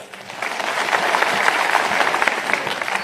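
Sustained applause from Congress party panchayat representatives filling an auditorium hall, a dense, steady wash of many hands clapping for about three seconds with no voice over it.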